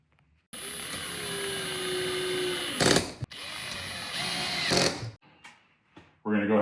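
Power drill driving screws through a mounting bracket into a custom pantry cabinet, a close whirring motor in two long runs with sharp bursts as the screws seat, followed by brief handling noises and a voice.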